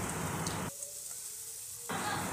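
Chopped teasel gourd is added to hot oil with salt and turmeric for a Bengali bhaji, giving a steady moderate sizzle that cuts out abruptly for about a second and then resumes.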